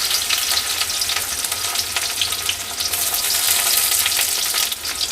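Sliced onions deep-frying in hot oil for chicken biryani beresta, a loud, dense, continuous crackling sizzle up close, with occasional stirring and no voices.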